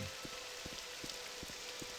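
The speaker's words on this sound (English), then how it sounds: "beautiful rainy day here in Karthwasten" Steady rain falls in the Skyrim video game at Karthwasten, a soft continuous hiss with scattered drop patters, fairly faint and even throughout with no voices.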